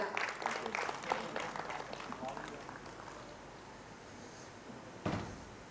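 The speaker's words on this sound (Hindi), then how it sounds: "एक बार सर के लिए जोरदार तालियां" Audience applause for a speaker at an official radio app launch, with a burst of clapping that fades, then a single sharp knock near the end, quiet and somewhat distant.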